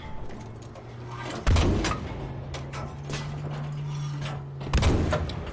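Two heavy booming tank cannon shots fire in the Battlefield 5 video game, a few seconds apart, each a loud deep blast that rings out over a steady engine drone.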